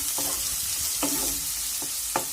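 Chopped onion fries in a pan for a Bengali begun khasi dinner, a steady close sizzle broken by a few sharp stirring scrapes, no voices.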